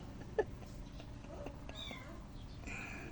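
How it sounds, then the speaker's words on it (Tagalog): A cat gives a short meow, a brief bright call near the start over steady outdoor background noise, with a few faint chirping sounds later. "May pusa ko si Pukol"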